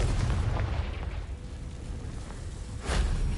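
A Confringo spell explosion in Hogwarts Legacy booms loud and close, a rumbling blast that fades and then flares again with a second burst near the end, with no voices over it.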